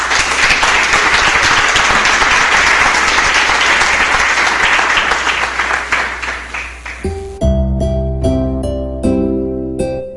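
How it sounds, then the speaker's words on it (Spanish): A church congregation at a Eucharist service applauds in praise, loud, dense clapping that thins toward the end, then gives way to music entering with sustained tones. "Un aplauso al Señor"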